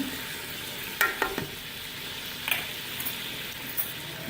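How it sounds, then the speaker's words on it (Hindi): Ground spices with salt, red chilli, coriander, turmeric and garam masala are stirred and fried in a pan for fish head curry, giving a steady soft sizzle broken by a few scraping stirs. "इन सबको अब हम अच्छे से मिक्स कर लेंगे। इसको मैं 4 से 5 मिनट तक भून लूंगी अच्छे से"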